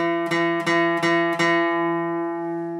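Four plucked guitar notes ring out one after another at a steady pace, the last one sustaining and fading alone.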